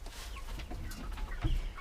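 Chickens cluck softly nearby in short, scattered calls over a quiet background hum.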